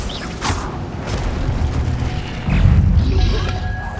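Incendio fire spells are cast in Hogwarts Legacy, producing crackling, creaking bursts with a heavier impact near the end, close and fairly loud amid busy game sound.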